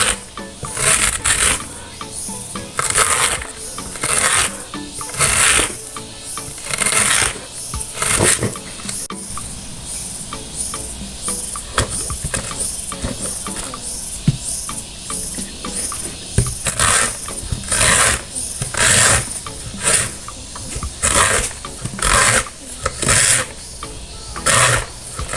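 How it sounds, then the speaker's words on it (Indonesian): Corn kernels are shaved off the cob with a hand grater in rapid rhythmic rasping strokes, heard close and loud in bursts with a brief pause midway. "pertama-tama kita serut dulu jagungnya Bunda. Bisa pakai alat seperti ini atau pakai pisau"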